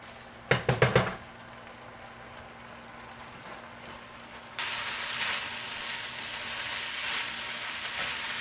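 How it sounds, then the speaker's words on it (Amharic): Rice frying in a pan for Ethiopian-style chicken fried rice gives a steady, fairly quiet sizzle that swells louder partway through, after a few sharp knocks at the start. "እንደዚህ አድርገን ጥብስ ሩዛችን"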